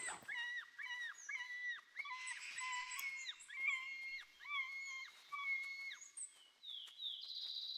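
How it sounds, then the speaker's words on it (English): Wolves in the video game Timbergold Trails give a string of repeated, tonal barking yelps at a moderate distance, rising and falling in quick bursts with no one talking over them. "Okay, there's more barking."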